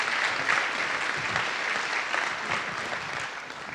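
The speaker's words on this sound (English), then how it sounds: "Give her a round of applause" An audience at a trust-building talk applauds, a dense, steady wash of many hands clapping at moderate distance that keeps going for several seconds without pause.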